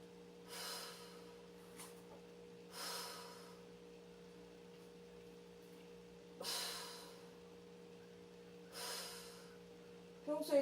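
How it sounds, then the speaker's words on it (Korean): Slow deep breaths in and out during a stretching routine, a few separate airy inhales and exhales spaced seconds apart, close and fairly quiet over a steady low hum. "숨 마시고 내쉬고."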